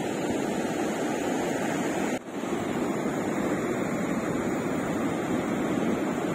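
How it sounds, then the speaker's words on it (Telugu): Sea waves wash steadily onto Kesanapalli beach, a continuous broadband roar of surf close by with wind across the microphone, briefly dipping midway before surging on. "ఇప్పుడు సముద్రం ఎదరికి వస్తుంది."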